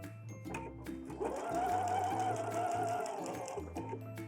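A sewing machine stitches up the side of a double welt pocket, its steady motor hum rising into a sustained whine for a couple of seconds before easing back, close and continuous with no talk.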